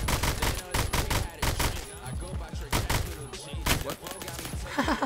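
Rapid bursts of AK-74 variant gunfire in Roblox Phantom Forces, loud sharp shots in quick clusters repeating across the whole stretch, with a voice talking faintly underneath.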